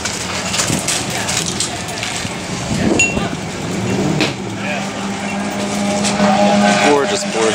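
A Porsche race car roars past at a racetrack, the engine note swelling and then fading, with other car sounds and people talking nearby throughout.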